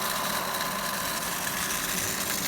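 A small electric motor with a snail-shaped blower drives a homemade plywood grain winnower, giving a steady, unbroken mechanical hum and whir, close and constant throughout.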